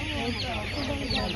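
Laying hens clucking in a short, busy burst of overlapping calls, fairly close and steady, with general background noise and some voices mixed in.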